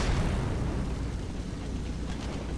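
Tank cannon fire and explosions in the war game Foxhole: a dense, rumbling boom that starts loud and slowly decays into a low roar, with faint crackles of debris near the end and no talking.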